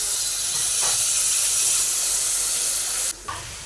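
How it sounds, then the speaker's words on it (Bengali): Coconut milk poured into a hot pan of fried prawns for prawn malai curry sets off a loud, steady hissing sizzle that runs throughout and drops off abruptly near the end. "এবারে এই নারকেলের দুধটা দিয়ে দেবো"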